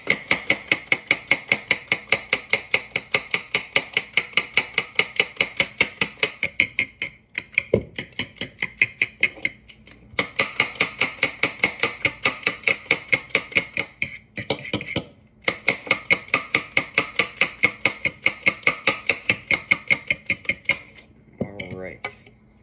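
Mixture beaten by hand in a bowl, a fast steady rhythm of utensil clicks against the bowl in long runs broken by short pauses, close and distinct with a voice talking underneath at times.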